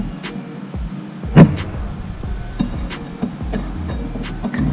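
A valve spring compressor is tightened on a Honda 400ex engine's top end, with close metallic ticks and one sharp clunk over a faint steady hum, no speech.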